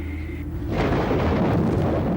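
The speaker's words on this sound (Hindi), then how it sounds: "लगता है बाहर बारिश हो रही है।" After a brief lull, a heavy rumbling roar of storm and rain swells in and holds steady, loud and enveloping.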